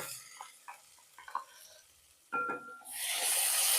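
Ground masala goes into garlic frying in oil: a few light stirring taps, then a sudden burst as it hits the pan, swelling into a loud, steady hiss of sizzling.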